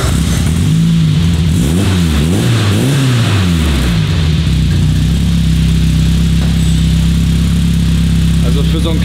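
A French project car with a nearly 2-litre engine revs up and down several times up close, then settles into a loud, steady drone, with voices talking over it.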